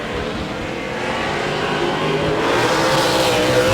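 A super late model race car slides sideways during qualifying at Auburndale, its loud, steady engine roar running close and continuous with a broadband hiss of tires and speed throughout.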